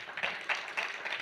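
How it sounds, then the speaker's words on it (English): A business audience applauds in a soft, steady patter of clapping, faint and distant, with no voices over it. "So give yourselves a warm round of applause"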